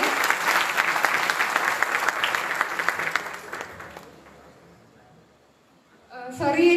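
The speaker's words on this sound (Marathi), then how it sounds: "टाळ्यांचा आवाज कमी नाही झाला पाहिजे" An audience at a career guidance program for students after 10th and 12th claps in steady, full applause that gradually thins and dies away, followed by a voice starting up at the end.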